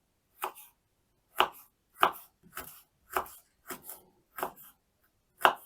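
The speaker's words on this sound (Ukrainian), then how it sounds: "Нарізаю невеличкими слайсами імбир." A knife slices ginger into small pieces on a board, giving about a dozen crisp, close, irregular chops with short pauses and no voices.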